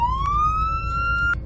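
Police siren from a Roblox police car in a video game, a single rising wail that climbs steadily and cuts off abruptly, loud and close over a low engine hum.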